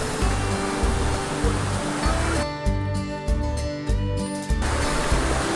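A terraced waterfall at a mountain resort in Argao, a steady loud rush of falling water heard up close with no pauses, the roar filling the whole scene.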